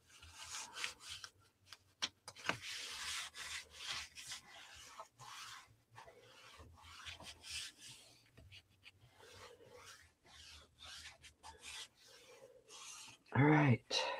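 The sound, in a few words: burnishing scored paper for a scrapbook page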